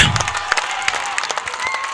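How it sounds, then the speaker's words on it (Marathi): A lively crowd at a cricket tournament final cheers and claps steadily, with scattered shouts rising above a dense wash of noise. "बघा हा जोश, बघा हा जल्लोष बघा."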